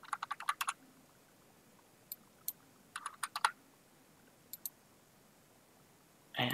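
Computer keyboard keys tapped in short bursts to enter values while setting up print-and-cut card designs, followed by a firmer keystroke hitting enter; close, crisp clicks with quiet gaps between groups.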